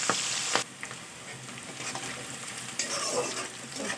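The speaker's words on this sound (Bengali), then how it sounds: "পেঁয়াজ আর লঙ্কা কুচি তেলের সঙ্গে নাড়াচাড়া করে নেব" Chopped onion and chili sizzle and crackle in hot oil as they are stirred, with a couple of sharp utensil knocks at the start and a steady frying hiss throughout.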